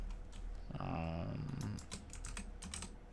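A computer keyboard clatters with quick, close keystrokes in uneven bursts, and a short low voice murmurs under the typing partway through.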